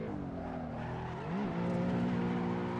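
BMW E92 M3 engine on a hot lap of the Nürburgring, a loud droning interior note that dips and climbs through a downshift and then holds steady under acceleration.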